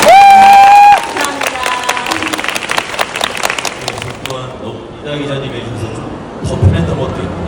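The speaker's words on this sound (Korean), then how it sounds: "박수 한번 보내주세요" An audience at a book talk at the Seoul International Book Fair bursts into loud clapping for a few seconds, which fades into a murmuring crowd and a speaking voice.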